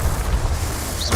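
A Confringo explosion spell in the Hogwarts Legacy video game, a short low booming blast with a rumbling body and a sharp pop at the end, no talking.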